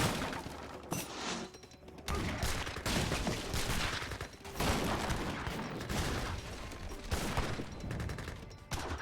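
Cannon and musket volleys clatter through an Age of Empires battle, culverins firing on great bombards amid dense crackling gunfire and heavy booms in repeated loud bursts with brief lulls between them.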